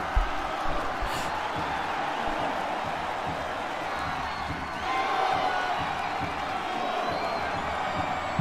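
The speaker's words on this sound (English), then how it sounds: "And you can feel the crowd." Stadium crowd from the Blue Lock anime U20 match cheering and roaring steadily, a broad wash of voices with occasional whoops and a swell midway, no clear speech.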